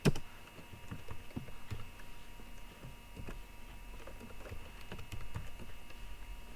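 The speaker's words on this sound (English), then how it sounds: "go to our CSS here and type float" Typing on a computer keyboard while writing CSS code, a steady patter of close, crisp key clicks with irregular rhythm and no talking.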